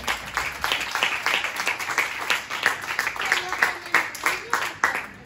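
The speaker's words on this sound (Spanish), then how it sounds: "Es otro aplauso para esa señor." Applause at a children's graduation, with scattered, uneven clapping from a small audience that goes on for several seconds and sits fairly close.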